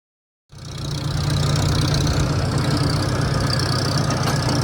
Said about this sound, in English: And I'll start up the tractor and try and grab my 3-point blade.